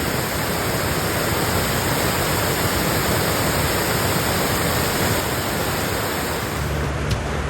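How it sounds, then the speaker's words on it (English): Bond Falls in Michigan's Upper Peninsula pours down in a steady, powerful roar of rushing water, loud and unbroken throughout, heard from a boarded-up observation deck near the falls. "you could really feel the power and the rush of the water"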